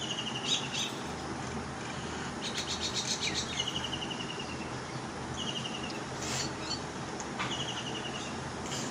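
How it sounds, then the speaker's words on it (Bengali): Birds chirp just after rain among green surroundings: scattered short, high tweets and squawks come in small bursts over a soft, steady outdoor background, fairly faint and with no voices. "চারপাশে শুধু পাখির কিচিরমিচির শব্দ।"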